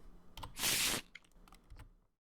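A single sharp press of the R key on a computer keyboard during a tabletop game setup, a loud click burst followed by a few lighter scattered taps that fade into silence.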